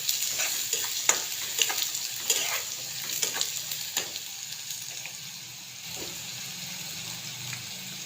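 Chutney, turmeric, coriander powder and garam masala sautéing in a pan for a suran (elephant foot yam) dish: a steady soft sizzle broken by repeated scraping stirs of a spoon, with faint water-like hiss and no talking.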